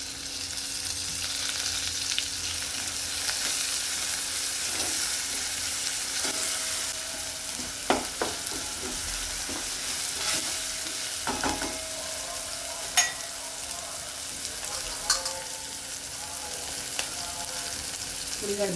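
Chopped tomatoes tossed onto softened, sautéed onions in a hot pan give a steady, close sizzle for the whole stretch, with scattered clinks and scrapes of a spoon stirring the mixture.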